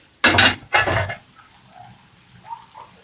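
A kitchen utensil washed under running water, with two short bursts of splashing and clattering close by, followed by quiet with faint clinks.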